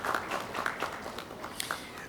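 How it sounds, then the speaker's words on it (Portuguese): Scattered applause from a small crowd at a solar energy conference in Brazil, a steady patter of hand claps with a few sharper claps standing out, moderately distant. "uma salva de palmas para o nosso amigo Vitor, por favor."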